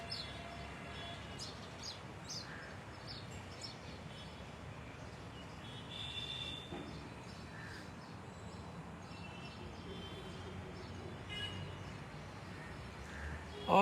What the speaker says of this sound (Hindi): 6-7 गौरैया इधर बैठी हुई हैं और सब सुना रहे हैं।